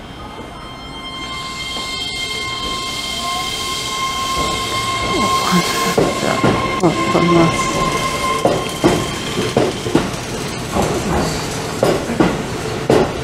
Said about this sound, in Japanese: 回送電車到着しました。